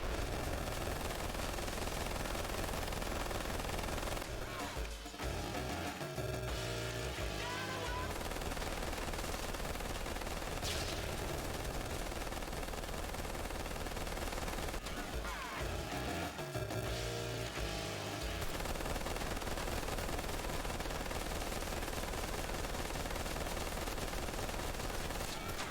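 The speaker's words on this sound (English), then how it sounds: "Oh, okay, we're shooting." Sustained gunfire in Ride to Hell: Retribution, loud continuous automatic bursts running nearly the whole time over a dense game soundtrack, with brief dips and a few sharper shots.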